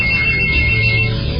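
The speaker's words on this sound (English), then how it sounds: "Sorry, the phone's ringing." A phone ringtone plays close and fairly loud, a steady electronic tone sustained for over a second without speech.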